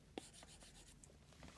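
Apple Pencil scratching across an iPad fitted with a paper-like screen protector, a faint continuous rough rubbing with light taps and strokes, close and steady with no talk.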